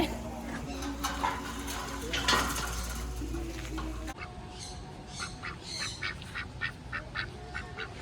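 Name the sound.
ducks quacking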